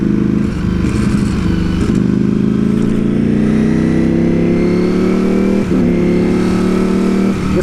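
A Ducati Streetfighter V4 motorcycle engine revs loud and close, its pitch climbing steadily through the gears with quick dips at each shift, with no talking.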